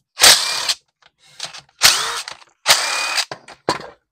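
A power driver removing T20 screws from a string trimmer whirs in three loud, close bursts of about half a second each, with brief quieter ratcheting and clicking between them.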